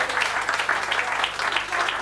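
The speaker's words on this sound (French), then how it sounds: "nos amis qui nous demandent d'applaudir chacun" An audience applauds steadily for about two seconds, a dense wash of many hands clapping at a gathering with no voices over it.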